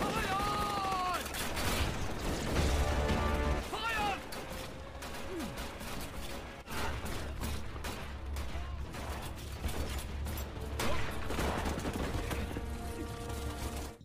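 Sustained gunfire in a battle between Chinese and Indian troops, rapid shots and fusillades crackling over a low rumbling bed, with brief voices and shouts mixed in.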